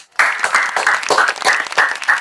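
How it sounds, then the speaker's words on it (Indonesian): Applause for a podcast guest, a small group clapping close by in quick uneven bursts that start abruptly and carry on with a choppy rhythm. "tepuk tangan buat Cak Herman"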